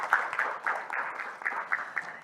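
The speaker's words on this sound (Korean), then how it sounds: "큰 박수 부탁드리겠습니다." Applause from a conference audience at a 2023 energy policy forum round-table session, a thin, moderately distant patter of clapping that rises and falls in small bursts for about two seconds with no voices.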